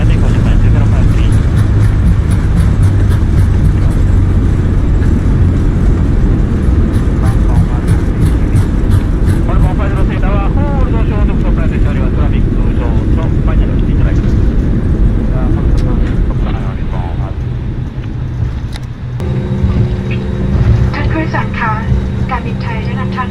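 An airliner in Microsoft Flight Simulator spools up for takeoff, a loud steady jet engine roar that builds and holds, with a radio voice talking over it.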